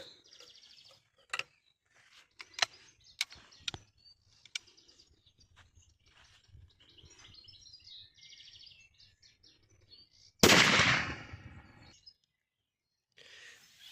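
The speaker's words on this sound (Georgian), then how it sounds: "ესეც უკვე მეხუთე გასროლის ჯერი მოვიდა" A single loud, sharp blast of a Fair SLX800 shotgun firing a 36-gram Remington cartridge with full choke, ringing out and fading over about a second, after a stretch of quiet outdoor birdsong and faint chirps.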